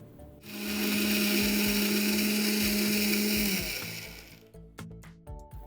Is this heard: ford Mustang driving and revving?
no